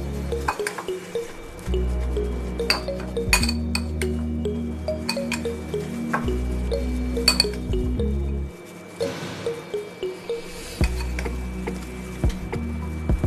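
Sliced bitter gourd is tossed and mixed with amchur powder, salt and turmeric in a bowl, giving close, soft squishing and light clinking knocks in uneven bursts, with no talking.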